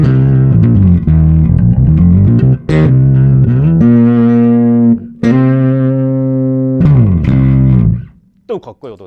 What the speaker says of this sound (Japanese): このオクターバーもなんかオクターバーの音はしてるんで